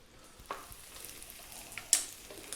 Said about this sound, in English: In goes our bacon that I've cut into small pieces. And I'm just going to fry that.